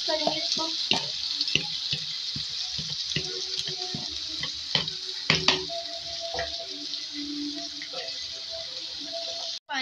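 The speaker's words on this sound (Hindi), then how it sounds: "पानी ऐड करेंगे मसाले की बॉल में ताकि मसाला सारा चला जाए इसमें।" Water is poured into a bowl of masala for chicken liver (kaleji) in a home kitchen, a steady splashing trickle with scattered clinks of utensils, close and moderately loud.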